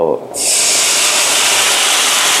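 Panang curry paste hits a hot pan over low heat for a steak sauce, setting off a sudden loud sizzling hiss that continues steadily and close up.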